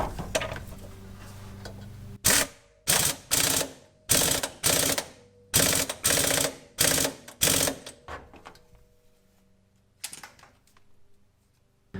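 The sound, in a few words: rattle gun tightening coilover suspension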